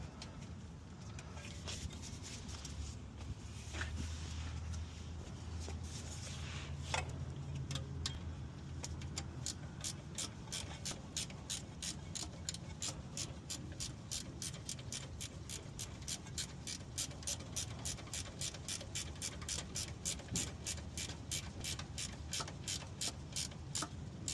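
Ratchet turning the alternator nut on a 2004 Nissan Frontier, a close, rapid series of regular clicks repeating steadily for most of the clip after some faint mechanical handling at the start.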